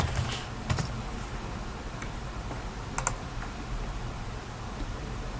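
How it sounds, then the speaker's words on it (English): A name being typed on a computer keyboard in a quiet room, with a few scattered key clicks and short bursts of taps over a steady background hiss. "Search for the student by typing his or her name."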